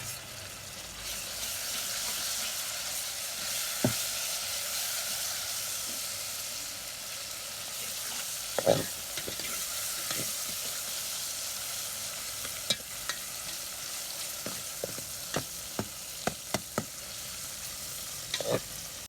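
Chopped medium tomato pieces drop into golden brown onions frying in oil, with a steady sizzle and hiss running throughout and scattered stirring clicks and scrapes of a spoon against the pan, close and alone.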